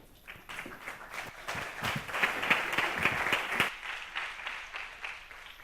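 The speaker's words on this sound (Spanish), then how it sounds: "Un aplaudiment pel senyor Bolívar." Audience applause at a leadership talk, a dense burst of many hands clapping that swells, holds for a few seconds, then thins out and fades near the end.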